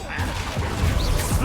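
A Flipendo spell fires in a Harry Potter video game, a loud, dense whooshing crash of magical impact that fills the short moment on its own.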